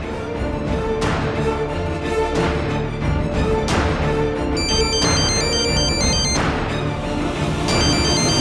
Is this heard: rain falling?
no